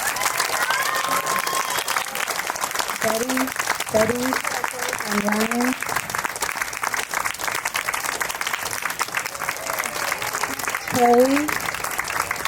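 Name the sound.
audience applauding the theater cast and crew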